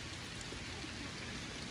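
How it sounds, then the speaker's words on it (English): Heavy rain pours down at a Pennsylvania campground during an RV camping trip, a dense, steady, broadband hiss of falling water with no voices, heard fairly faintly. "You can see the rain coming down."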